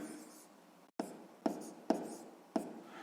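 Pen writing on paper while working a sixth-grade math exercise, heard as a soft continuous scratch broken by a brief pause and then three or four sharper taps and strokes, close and quiet, with no voices.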